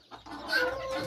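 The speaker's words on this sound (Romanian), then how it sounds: "cocoșei de mii de flori și o găină de ouă" Millefleur roosters and a laying hen cluck close by in a coop, a short run of soft, uneven clucks rising slightly in loudness.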